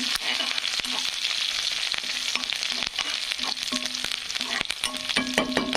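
Curry leaves crackling and sizzling in hot oil in a pan, a dense continuous fry with sharp pops scattered throughout, close and fairly loud.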